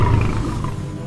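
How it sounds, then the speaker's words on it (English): A lion roars in one loud, sustained, deep rumble that lasts the whole short moment, heard alone with no voices. "It's a lion."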